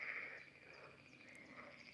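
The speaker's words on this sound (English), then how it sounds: "I don't know if you can hear me over the frogs." A chorus of frogs croaks outdoors, a dense steady trilling drone with a louder call at the start, moderately distant and alone without talk.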